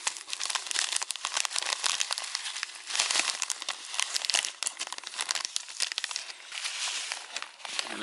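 A sealed plastic seed packet for a tortoise enclosure meadow is torn open and handled, with loud continuous crinkling close up for several seconds.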